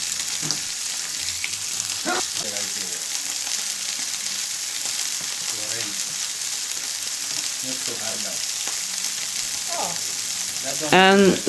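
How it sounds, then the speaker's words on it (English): Steady sizzling of food frying in a hot pan, with occasional scraping and clinking as it is stirred, continuous throughout. "then I'm stir frying it"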